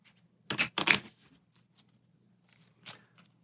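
Resource cards from a board game being shuffled, two quick riffling bursts close by, followed by a few faint taps and one more short riffle against a quiet background.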